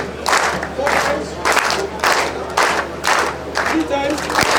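Ceremony audience at a graduate membership induction clapping together in a steady rhythm, loud, close bursts of applause repeating about every half second, with a voice over the crowd.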